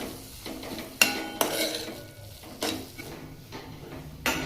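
A spoon stirs peanuts through a spicy chutney in a pan, giving soft scraping and a few sharp taps against the metal over a faint sizzle, close up and without talk.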